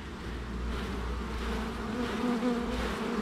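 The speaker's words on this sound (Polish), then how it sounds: "jak będę zrzucał teraz tą pszczołę" Honeybees being shaken off a hive frame during a colony inspection give a dense, steady buzz that swells slightly, close and continuous, with no voices.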